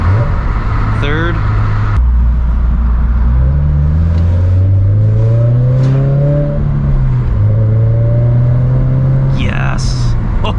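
A Subaru BRZ engine revs up and down through downshifts from fourth to third, rising and falling engine tone with blips, loud from inside the car, with a voice talking over it.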